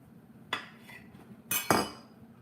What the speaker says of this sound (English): If I cut this open, I want you guys to see this.